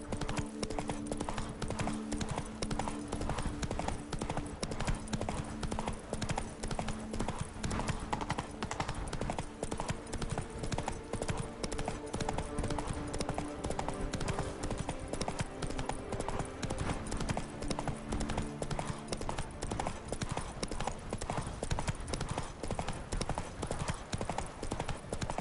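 A horse gallops in The Witcher 3 video game, steady rapid hoofbeats clip-clopping continuously and loudly over game music and ambience, with brief voices talking in between.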